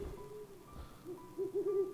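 An owl hooting in a Peppa Pig Siren Head video game, a few soft, low, tonal hoots that grow stronger and repeat quickly near the end, quiet and alone with no talk.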